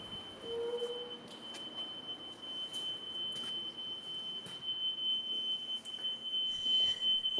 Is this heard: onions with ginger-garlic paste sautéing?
no